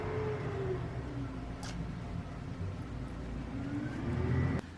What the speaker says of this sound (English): Why do people come here with trucks when I'm recording?